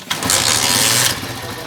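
A motorcycle fitted with a Bluetooth remote-control starter cranks and catches, giving a loud, close burst of starter whir and engine noise for about a second before settling into a steadier running sound, with no talk.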